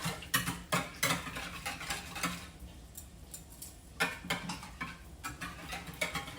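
Spoon scraping and tapping rhythmically around a bowl while canola oil is mixed into ensaymada batter, a steady run of close, light clinks and scrapes with brief pauses.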